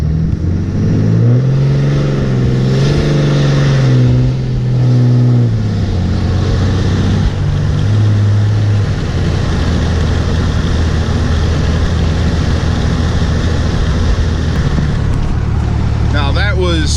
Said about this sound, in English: I am going to start from stop. I'm not going to floor it, but I'm going to get on it pretty hard